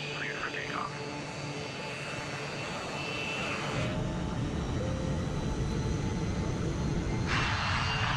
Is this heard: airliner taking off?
yes